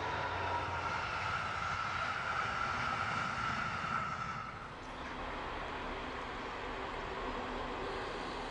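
DB class 218 diesel locomotive running at about 120 km/h, a loud continuous roar of engine and wheels on track that dips briefly midway and then carries on steadily, with no one speaking.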